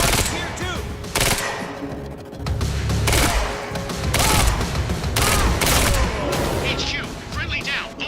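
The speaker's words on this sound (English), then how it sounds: "Why the hell is Monarch firing at us?" Monarch soldiers open fire in Quantum Break, loud sustained bursts of automatic gunfire hammering in waves close by, with characters speaking over the shooting.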